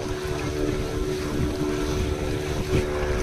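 A tourist boat ride off a Goa beach carries a steady engine drone mixed with wind rush and water noise, constant and fairly close, with no voices.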